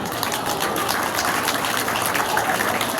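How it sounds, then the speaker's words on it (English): Audience at a school ceremony applauding, a dense, steady wash of hand claps filling the whole stretch without a break. "Please, a round of applause."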